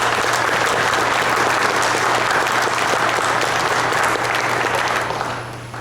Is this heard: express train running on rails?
no